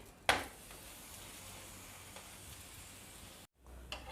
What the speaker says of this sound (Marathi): आता मी दुसरा पराठा भाजून घेते आता दुसऱ्या साईडनी पण आपण व्यवस्थित भाजून घेऊया पलटी करते